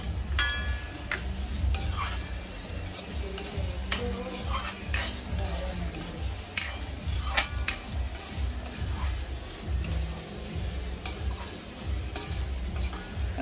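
Curry leaves go into hot oil in a pan, with a soft sizzle under repeated clinks and scrapes of a spoon stirring against metal cookware, close and fairly quiet, no talking.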